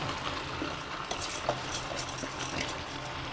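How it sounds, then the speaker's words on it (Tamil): Rice is poured into biryani masala in a pressure cooker, a close, continuous rustling patter of grains over a faint sizzle, with a few small metallic clinks and no talk. "இப்போ இந்த இதில் நம்ம அரிசி கொட்டிக்கலாம்."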